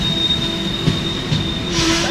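Mumbai LTT–Thiruvananthapuram North train halting at Irinjalakuda railway station, a steady high metallic wheel squeal with rumbling rolling noise underneath, loud and close throughout.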